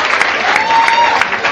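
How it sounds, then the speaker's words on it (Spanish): Audience applause at a youth amateur boxing event, steady clapping from a crowd heard up close and fairly loud, with a voice speaking over it. "esas dos guerreras se han ganado un fuerte aplauso de parte del público"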